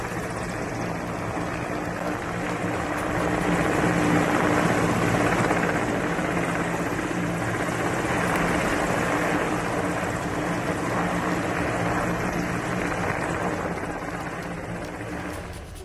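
An Air Force rescue helicopter over a flooded area in Jamnagar, Gujarat gives a loud, steady rotor thrum and engine roar that holds close throughout, swelling slightly in the middle and easing toward the end.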